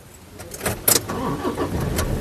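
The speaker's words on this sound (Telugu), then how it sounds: "కారు సింగిల్ సెల్ఫ్లో కార్ స్టార్ట్ అవుతుందండి" A 2013 Toyota Innova's engine cranks over and catches on a single start, with a sharp burst of starter noise that settles into a steady, close engine hum.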